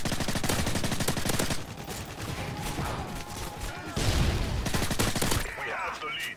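Rapid submachine gun bursts in the video game Call of Duty rattle out loud and close in long strings, pausing briefly before another volley, with players chatting over the gunfire.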